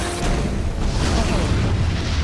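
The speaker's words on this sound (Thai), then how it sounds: "ใช้ระเบิด EMP นะคะ" An EMP grenade detonates in the video game Metal Gear Rising: Revengeance, a loud, sustained rumbling boom with crackling noise spread across its whole two seconds.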